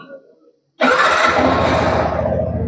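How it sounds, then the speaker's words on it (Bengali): A Yamaha XSR 155 motorcycle fires up after a brief faint sound, then settles straight into a loud, steady, close idle thrum. "তো বাইকটাকে আমরা বন্ধুরা স্টার্ট করি এখানে।"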